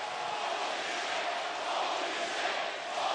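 A large arena crowd at a live wrestling event in Detroit roars and cheers continuously, a loud, sustained wall of voices with no break.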